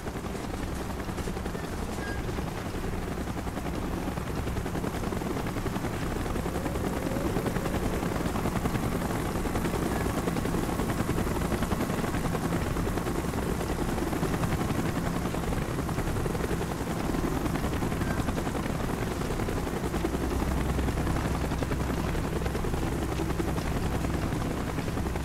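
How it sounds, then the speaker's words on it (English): Helicopter in the Call of Duty Black Ops video game, a constant heavy rotor roar filling the whole stretch at steady loudness, with no distinct gunshots standing out. "Chopper's inbound."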